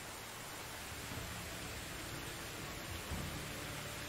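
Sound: rain in the video game Medieval Dynasty

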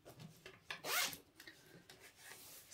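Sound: zip being turned around on a fabric bag

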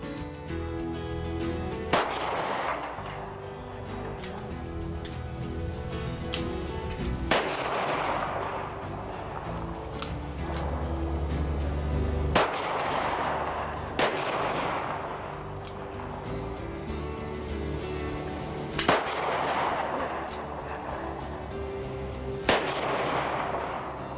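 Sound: rifle gunshots at a shooting range

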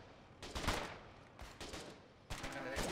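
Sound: gunfire at an APC gunner in the video game Foxhole

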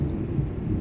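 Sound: rain and thunder in Euro Truck Simulator 2 video game

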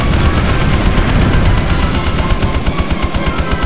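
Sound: aircraft cannon fire in Eagle One Harrier Attack video game

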